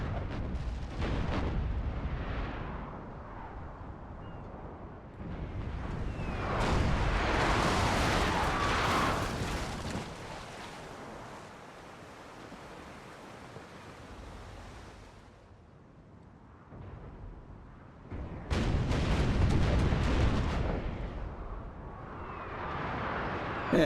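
Naval cannon fire in Napoleon Total War during a large Mediterranean sea battle, with heavy rumbling volleys rolling like surf and wind that swell, fade and return in several long waves of distant booming.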